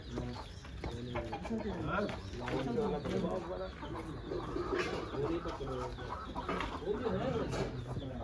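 Chickens at Jaawalkar Farms cluck and squawk close by in scattered bursts while people talk nearby.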